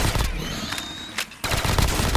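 Rapid automatic gunfire from Call of Duty Zombies on the Space Tower map, aimed at the war machine, dense and loud throughout with a brief drop in the middle before the bursts resume.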